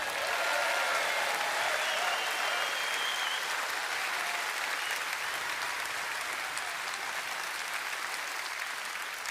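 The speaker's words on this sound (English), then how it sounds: "Give Richard a round of applause." Party conference audience applauding Richard, a full, even roar of many hands clapping that holds steady at high volume for about nine seconds with no talk over it.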